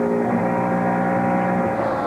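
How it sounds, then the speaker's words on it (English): Jeff Gordon's NASCAR race car engine from the 2001 MBNA Cal Ripken Jr. 400, heard on board as he gets back on the throttle in a turn: a loud, steady, continuous engine roar with a slight rise in pitch, no talk. "Back on the throttle."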